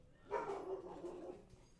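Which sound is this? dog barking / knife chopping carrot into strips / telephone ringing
dog barking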